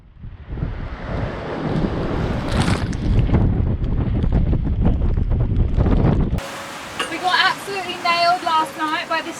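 Strong southerly breeze of about 25 knots buffets a sailboat at sea amid heavy swell, a loud rushing roar of wind and water that cuts off abruptly, followed by a quieter stretch.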